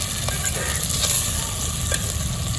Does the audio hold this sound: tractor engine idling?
no